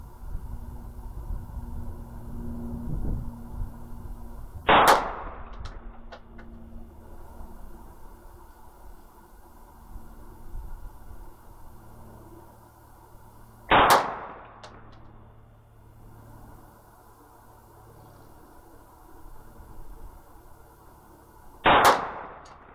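A Ruger Security 9 pistol with a red dot fires at an outdoor target. Three loud, sharp shots ring out about eight to nine seconds apart, each with a short ringing tail, over a quiet background with no talking.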